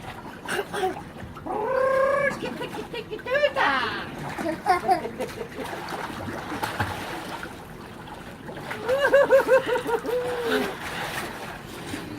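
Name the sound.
children splashing water in a pool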